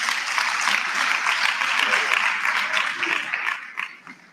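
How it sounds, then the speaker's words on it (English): A hall audience at a national student council induction applauds steadily in a dense wash of clapping that holds strong for about three seconds, then thins and tapers off with a few scattered last claps. "Can we then really give them a round of applause?"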